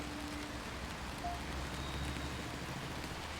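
Rain falls steadily in the video game Until Then, an even, soft hiss of drops with no speech over it.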